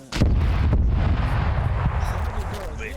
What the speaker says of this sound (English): Explosion. I like explosion.